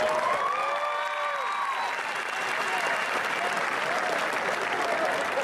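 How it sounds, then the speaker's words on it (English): Commencement audience at a 2018 high school graduation breaking into loud, sustained applause, dense clapping that continues throughout, with a voice briefly heard at the start. "Would you please give these individuals a round of applause?"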